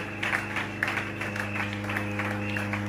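A church congregation acclaiming the Lord claps along in a steady rhythmic beat, moderately close, under a sustained tonal bed of music, with no spoken words.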